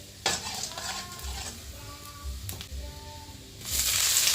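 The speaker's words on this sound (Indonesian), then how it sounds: "ini lanjut aku goreng bawangnya" Onions fry in a pan in a home kitchen, a soft sizzle under intermittent stirring scrapes and clinks of a utensil, close up, with the sizzle swelling louder toward the end.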